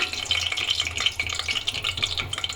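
Bay leaves dropped into hot ghee in a pan, giving a soft, steady crackling sizzle with light rattling, fairly quiet and close, with no voices.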